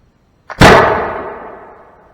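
A single loud shot from a 1706 Dutch musket: a small snap of the priming flash followed at once by a sharp, powerful boom that decays slowly over more than a second, outdoors and close.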